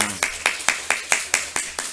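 About eight evenly spaced claps ring out in quick, crisp succession at a children's church service, close and clear, as if one or a few people clap in unison.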